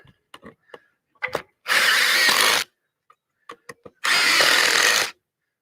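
A power drill drives screws into a piece of wood in two loud, close bursts of about a second each. Faint clicks and handling knocks fall between and before them.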